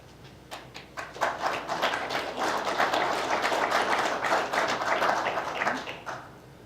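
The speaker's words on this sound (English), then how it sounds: "clapping is not allowed. And it's happened twice" Audience clapping in council chambers during a town council meeting, a burst of several seconds of scattered hand claps rising quickly and holding steady before tapering off, moderately near with no talk over it.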